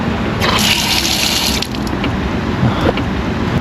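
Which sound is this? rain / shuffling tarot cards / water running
water running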